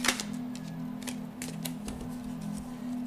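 Tarot cards riffle and snap in quick irregular bursts, close up, over a steady low hum; no talking.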